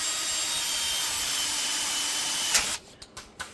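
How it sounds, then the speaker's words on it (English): A drill bores through a template into an RC car chassis, a steady high whine that runs continuously before stopping, followed by a few short clicking taps as the bit is withdrawn. "All right, we're going to drill the inside pattern."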